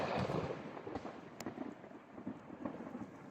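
Low rolling thunder rumbles on and off, moderately loud and broad, with a faint patter like rain beneath it and no voices.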